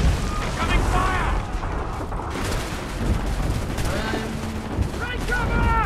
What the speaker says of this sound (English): Get down! They're firing!